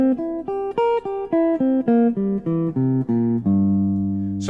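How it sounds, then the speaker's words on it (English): A C dominant 7 arpeggio played as an inversion starting on G, heard as a sequence of about ten clear, evenly spaced plucked notes moving up and down, ending on a sustained ringing note. "And then another one that lines up is a C dominant 7 arpeggio."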